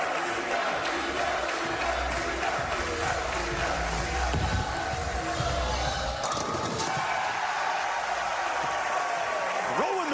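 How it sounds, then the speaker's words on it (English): A large crowd at a PBA doubles bowling final chants a player's name in a steady roar that fills the arena, with a brief crash of pins partway through. "Here comes the Dio chant once again."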